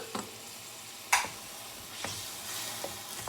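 Chicken in a pan with ketchup and malt vinegar being stirred in, a soft steady sizzle broken by several distinct spoon taps and scrapes against the pan, fairly quiet and close.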